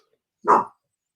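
A single short, loud dog bark, close and isolated, with silence before and after.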